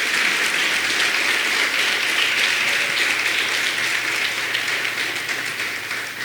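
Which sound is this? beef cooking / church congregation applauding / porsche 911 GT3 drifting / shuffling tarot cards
church congregation applauding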